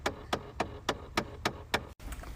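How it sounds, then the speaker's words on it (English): A broken blend door in a 2011 Chevrolet Impala clicks in a steady run of seven sharp, evenly spaced knocks about a third of a second apart, close and fairly loud, with no voices. "besides the broken blend door that's clicking"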